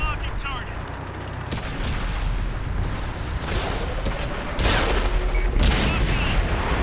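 Tank cannons booming in World of Tanks on Xbox One, an IS-3 and Tiger II trading HEAT rounds, with heavy blasts rolling over a dense, continuous battle rumble and sharp louder bursts near the end.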